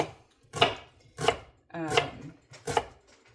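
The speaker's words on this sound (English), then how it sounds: "I'm going to go ahead and dice up half an onion and saute it" A knife dices half an onion on a cutting board for a chicken and corn chowder, four distinct chopping bursts spaced about two-thirds of a second apart, close and crisp with no talk.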